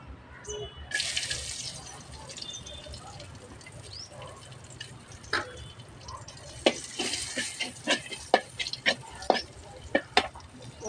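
Crushed garlic frying in a pan for a homestyle brinjal curry, with a steady low sizzle and a series of sharp scraping clacks as the pan is stirred toward the end.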